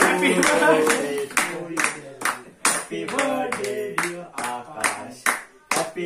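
Family members clapping at a home birthday celebration for a child, several rounds of brisk clapping close by with voices talking and cheering over it.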